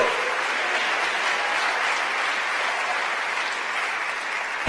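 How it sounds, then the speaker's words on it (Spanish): A church congregation claps together in sustained, dense applause, a steady wash of hand claps filling the room throughout, with a brief louder burst at the very end. "Démosle palmas al Señor, hermano."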